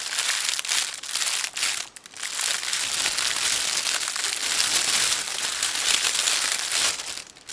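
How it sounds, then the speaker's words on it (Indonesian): A plastic bag is crinkled close to a Lensgo LYM-DMM1 microphone, loud sharp crackling and rustling in an irregular stream with a brief pause partway through. "coba bunyiin plastik ini"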